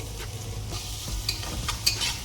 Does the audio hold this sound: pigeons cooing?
no